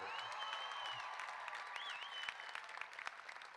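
Graduation audience at a California State University, Northridge commencement for the College of Education and College of Social and Behavioral Sciences cheering and applauding; dense, steady clapping with scattered whistles and shouts filling the hall throughout.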